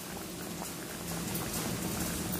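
A turkey berry and tamarind curry boiling in a pot, its thick liquid bubbling steadily and softly close up, with no voices.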